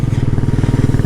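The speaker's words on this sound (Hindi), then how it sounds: "ऐसे चढ़ती है बाइक्स या फिर कार्स या फिर गाड़ियाँ ऐसे चढ़ती है" Motorcycle engine labouring up a steep, sharply curving road in the eastern Himalayas toward Thangu Valley, a steady loud throbbing putter with rapid regular pulses, close and continuous, no voices.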